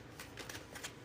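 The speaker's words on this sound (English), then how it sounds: "So let me just shuffle these for a moment before I return them to their rightful place." A deck of oracle cards being shuffled by hand, a few soft papery riffles and slides in quick succession, close and fairly quiet with no talking.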